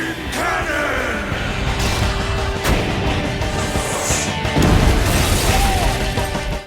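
Omnimon's Supreme Cannon fires in a Digimon battle, a loud booming blast with crashing impacts and rumbling debris that swells again near the end before cutting off.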